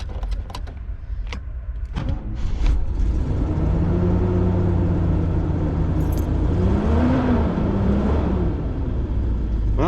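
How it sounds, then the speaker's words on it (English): An RV engine cranks on a freshly repaired starter, catches after a couple of seconds and settles into a loud, steady idle with a rising and falling whir, close by. "Well, the starter works again."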